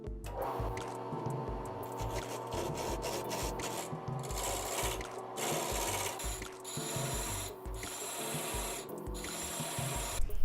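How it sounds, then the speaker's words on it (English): A wood piece spins on a mandrel mounted on a lathe, giving a steady, loud whirring and rasping that runs unbroken for the whole stretch with no voices. "Then I have this mandrel on the lathe, so screwing it in and turning the piece around."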